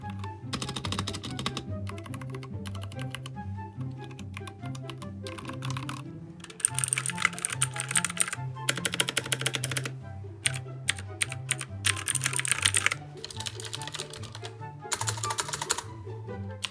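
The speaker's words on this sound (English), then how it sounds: "every good sounding keyboard has switches" Rapid typing on a gaming keyboard with mechanical switches, a dense and continuous clatter of close keystrokes that grows slightly louder partway through, with no voices.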